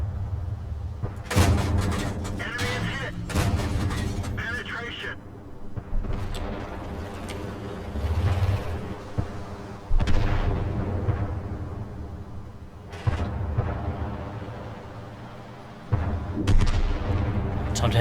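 Heavy cannon shots ring out from the AC1 Sentinel tank in World of Tanks, with about five punchy booms spaced a few seconds apart. Each blast decays into a rumble, and faint speech sits underneath.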